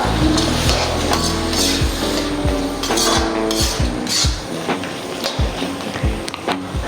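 A spoon stirs chili powder into pork in a pan, giving close, repeated scrapes and metallic clinks over a steady background hiss from the cooking.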